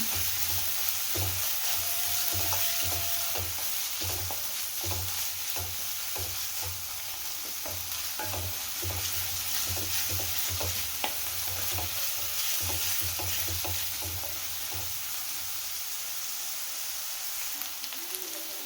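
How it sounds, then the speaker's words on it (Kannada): Onions and vegetables stir-fry in a pan for veg hakka noodles, with a steady loud sizzle and frequent scraping, clinking stirring strokes throughout, no voices. "ಆನಿಯನ್ನ ಹಾಕೊಳ್ತಾ ಇದ್ದೀನಿ ಈಗ ಇದನ್ನು ಹಾಕಿ ರೀತಿ ಚೆನ್ನಾಗಿ ಮಿಕ್ಸ್ ಮಾಡ್ಕೊಳ್ತಾ ಇದ್ದೀನಿ"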